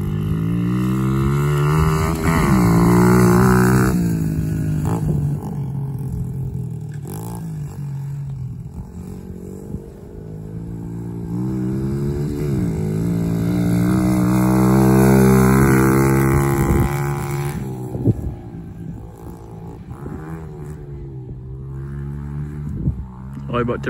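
A small mini bike engine revs and drones while the rider pulls wheelies, its pitch rising and falling in long surges over about twenty seconds, close by, with voices talking over it.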